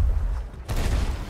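Sniper rifle shots in Sea of Thieves, a loud crack that briefly fades and then swells back into a booming, rumbling blast over a busy game background.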